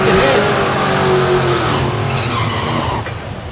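A 1965 GTO and a 1966 Fairlane launch side by side at a drag strip, loud engines howling close by with tire squeal, fading slightly at the end while an announcer talks over it.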